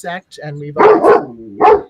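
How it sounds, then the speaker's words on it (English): A pet dog barks at home in a few short, sharp bursts, loud and close, while a person talks. "that's my dog"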